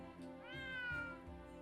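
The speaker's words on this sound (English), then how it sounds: "There's a cat. I found a cat. I found the cat." A cat in the video game Triangle Strategy gives a single drawn-out meow, clear and upfront, rising then falling in pitch over a soft game music bed.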